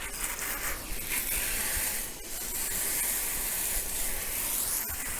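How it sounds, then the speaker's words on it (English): Steady hissing water spray rinsing mud off a mountain bike, broadband and close, holding constant with slight shifts as the stream moves across the frame. "just wash the bike off again quickly"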